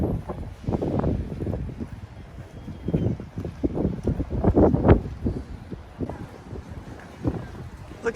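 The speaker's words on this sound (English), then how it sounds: "Sorry about the wind. It's a bit windy today." Low, blustery wind buffeting the microphone in uneven bursts outside St Albans Cathedral, England, heavy rumbling gusts coming and going across the whole stretch.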